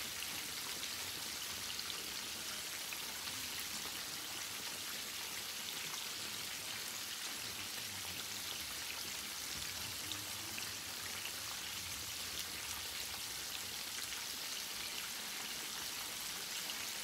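A roux of flour and fat cooks in a pan with a steady, soft hiss and fine crackle, even and unbroken throughout, with no voices.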